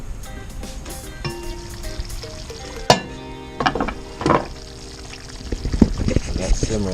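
Oxtails simmering in a covered pot on a Big Green Egg kept at 400 degrees, a low, steady bubbling hiss with scattered clinks and pops, louder bursts of movement in the middle and near the end.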